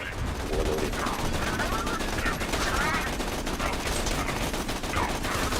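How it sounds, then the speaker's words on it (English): Machine gun fire in the video game Borderlands 2, a dense, continuous rattle of rapid shots, loud and sustained across the whole stretch with game effects layered over it. "Let's see how the cruddy machine gun performs on the warloader."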